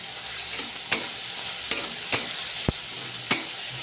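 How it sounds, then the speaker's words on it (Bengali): Potatoes fry in a pan with a continuous close sizzle, punctuated by several sharp taps and scrapes of a utensil turning them. "প্রথমে আমি হালকা করে আলুটাকে ছেড়ে দিলাম আলুটা একটু লাল করে ভাজবো"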